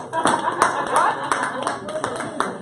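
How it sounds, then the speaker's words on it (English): A small group claps for Aisha, a short run of uneven, close handclaps over a couple of seconds with a voice talking among them. "Clap for Aisha."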